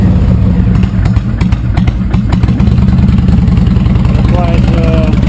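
A 2005 Honda VTX 1300 motorcycle still cold and running on choke, its loud, uneven idle pulsing close by while someone talks over it.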